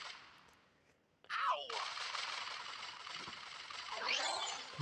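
Rapid gunfire with Colt guns in a video game crackles in a dense continuous burst after a brief quiet start, with a whooshing swell near the end, no voices.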